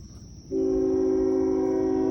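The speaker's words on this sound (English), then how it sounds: "Here comes a train too, right on time." A train sounds a long, steady horn that starts abruptly and holds, heard at a moderate distance over a low rumble.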